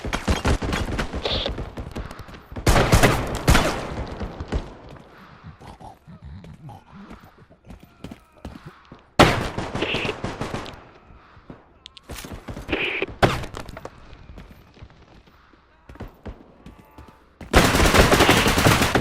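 Shotgun blasts in a first-person shooter video game, loud booming shots in bursts separated by quieter gaps of game ambience, with a final heavy burst at the end.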